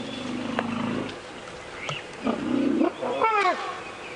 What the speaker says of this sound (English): Now that sounds like a younger elephant throwing a tantrum because mom won't let it suckle.